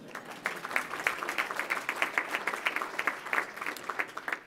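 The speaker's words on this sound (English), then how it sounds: "Let's give a round of applause for everyone that I just mentioned." At a Columbus Metropolitan Club forum, an audience gives a fairly faint round of applause, individual claps distinct and rhythmic throughout, heard from a distance.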